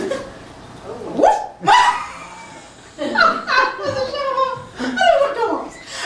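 A voice imitates a dog barking, delivering several loud, close, clipped barks interspersed with brief spoken French and light chuckling.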